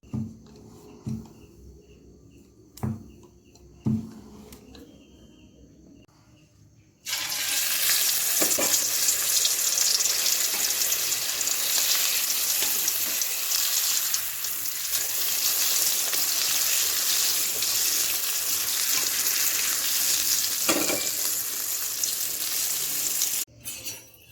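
Green pea kachori deep-fry in oil: after several seconds of quiet knocks and taps, a loud, steady sizzle bursts in and continues unbroken for over fifteen seconds before cutting off sharply.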